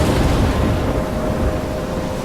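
A thunderstorm in the game Life Is Strange rumbles as a loud, sustained low roar of thunder and stormy weather, a steady heavy wash with no voices.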